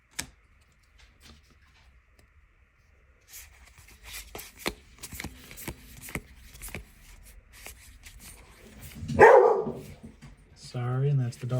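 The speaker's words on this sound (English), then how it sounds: "that's the dog" A dog barks a few times indoors near the end, a short, loud burst rising over quiet card handling and rustling, with people talking faintly in the room.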